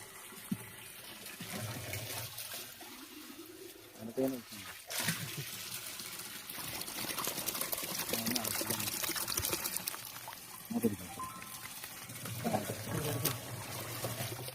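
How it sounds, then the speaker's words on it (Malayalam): Liquid decomposer being poured into a 200-litre tank of water for garden-waste compost, a steady close pouring and splashing wash running through most of the stretch, with a few brief voices. "ഡീകമ്പോസർ ഒഴിക്കുന്നു."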